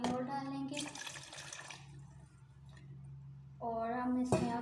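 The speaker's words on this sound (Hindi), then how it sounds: "पानी और डालेंगे" Water is poured over strawberries while making strawberry juice, a short splashy pour between stretches of a person talking.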